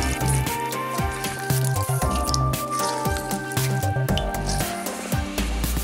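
Fish sauce and fresh lime juice squeezed into a mixing bowl for larb, close wet dripping and squelching with rhythmic splashes of liquid running into the bowl, no talking.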